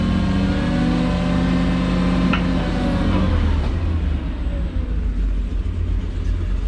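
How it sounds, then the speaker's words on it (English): A 1995 Kodiak crane truck's engine revs up via the throttle pedal and holds a loud, steady rumble, then the pitch drops and the engine settles into a rougher, lower idle. "you got a handy little foot pedal here for the engine throttle to get a little more speed out of it"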